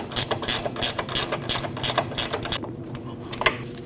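Ratchet wrench tightening a bolt on the rear wheel knuckle of a Jeep Cherokee, with fast, even ratcheting clicks close up for a few seconds before they slow and stop, and no talking.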